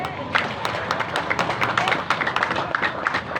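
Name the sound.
applause for the regent candidates at a debate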